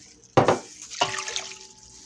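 Water poured from coffee cups into a soup pot for homemade chicken noodle soup: two distinct splashing pours, the second longer and trailing off into gurgling, close and fairly loud.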